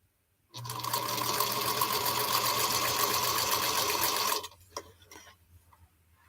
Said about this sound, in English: I got to wind the bobbin.